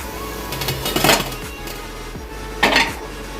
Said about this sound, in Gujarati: હવે આપણે બધા અપ્પેને ડીશમાં કાઢી લઈશું